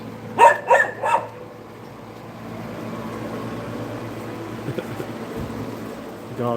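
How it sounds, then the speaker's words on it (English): A dog barks loudly in a New Orleans alleyway on a Christmas-night bike ride, three quick close barks at the start, then a steady hum of traffic and a faint extra yelp near the end. "Dog bitching up a storm."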